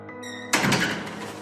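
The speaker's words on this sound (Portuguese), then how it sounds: "Ouço um ruído à porta, como se um imenso corpo viscoso a estivesse forçando" A heavy, close thud strikes a door and leaves a broad, rumbling resonance that fades over about a second, following a short stretch of sustained low tones.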